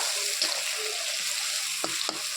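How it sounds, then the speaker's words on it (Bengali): Spices sizzle softly in a pan as they are lightly sautéed for a stingray curry, a steady frying hiss with a few faint stirring knocks and no voices. "তো হালকা করে কষিয়ে নেব"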